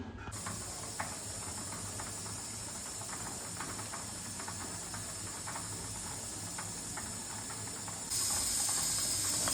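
Constant hiss of steam escaping from a pressure cooker cooking toor, masoor and moong dal, with faint rattling clicks, steady throughout and growing harsher near the end.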